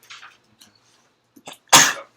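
A person sneezes once, loud and close, during a high school debate tournament round, preceded by a few faint breaths and small sounds in a quiet room.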